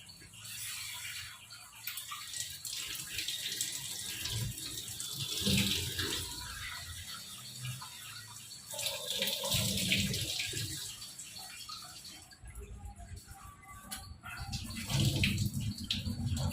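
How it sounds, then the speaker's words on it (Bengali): Tap water runs steadily while red lentils (masoor dal) are rinsed in a home kitchen, a continuous splashing wash that swells and eases as the grains are swirled, with no one talking. "মুসুরির ডালটাকে ধুয়ে নিই"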